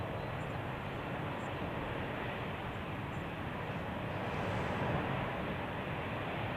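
A fixed-wing airliner on approach to runway 28 at Zurich Airport in gusty crosswinds, a steady distant engine roar and rumble holding level throughout, with no voices.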